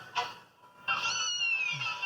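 Kittens on a farm meowing: a short mew near the start, then a longer, rising and falling meow that follows it, fairly close and clear.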